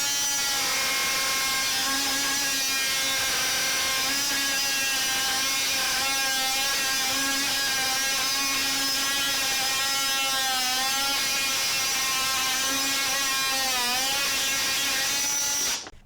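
A RIDGID Octane JobMax oscillating tool cutting wood runs as a loud, continuous high-pitched buzzing whine for about sixteen seconds, its pitch wavering slightly under load before it cuts off abruptly at the end.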